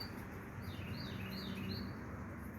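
A small bird in a garden pear tree gives a few faint, thin chirps, three short rising calls spaced about half a second apart over a steady outdoor hum.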